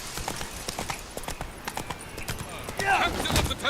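Hooves of the horse clip-clop at a gallop in the video game The Witcher 3: Wild Hunt, a fast, rapid pounding rhythm up close, with a voice talking over it.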